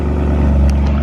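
A BMW M3 V8 at cold start rumbles loud and close, a steady deep low-end drone holding through the whole stretch with no voices.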